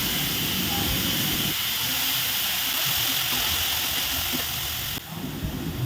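Steady loud hissing sizzle of beetroot sautéing in a hot pan, continuous throughout with a slight drop near the end.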